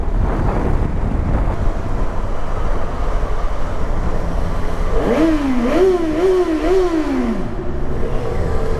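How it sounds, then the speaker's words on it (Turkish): A Yamaha XJ6 four-cylinder motorcycle engine rumbles under wind buffeting, then revs up and down several times in quick wavering swells before settling back. "Şimdi motorun sesi güzel aslında ama ya ben motorun sesini seviyorum."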